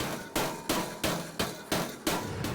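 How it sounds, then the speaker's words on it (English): A big hammer strikes sheet metal seven times in a steady, quick rhythm while a form is pre-shaped in a fabrication shop, each blow a loud, sharp, close bang with a short ring. "the Big Daddy hammer"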